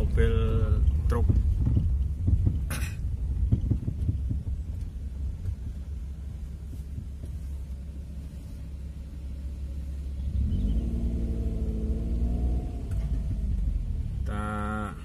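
Trucks on a mountain road in the Ijen mountains of East Java, a low engine rumble throughout with a heavier vehicle droning past toward the end, under scattered talk at the start.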